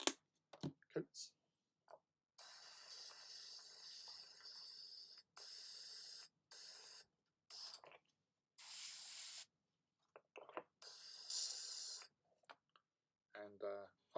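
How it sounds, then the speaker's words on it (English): An airbrush is cleaned between paint coats while miniatures are painted, with repeated short bursts of spraying hiss that start and stop, broken by quiet gaps and a few clicks. "So important to clean your airbrush between"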